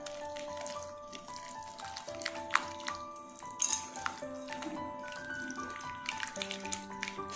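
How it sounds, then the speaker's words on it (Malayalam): Chicken tikka marinade worked together by hand in a bowl, wet squishing and dripping sounds in a soft irregular rhythm beneath sustained background music. "ഇനി നമുക്ക് കൈ വെച്ചിട്ട് തന്നെ ഒന്ന് മിക്സ് ചെയ്ത് കൊടുക്കാം"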